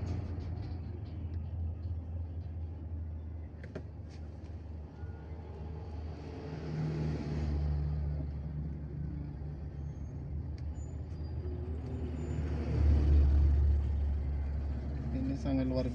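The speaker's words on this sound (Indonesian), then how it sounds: "Ini banyak kendaraan di depan sana yang arah sama dengan saya, ini pada makan jalur semua teman-teman." Heavy jammed traffic on the Palembang–Jambi eastern highway at Betung, with low engine rumble from many vehicles, trucks and buses and a hiss of air brakes, under steady talk throughout.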